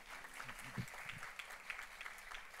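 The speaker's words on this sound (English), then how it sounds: "you can give a round of applause." A small audience at a museum lunchtime art talk claps quietly, a soft, thin patter of hands heard at a distance, with a brief low voice murmuring near the start.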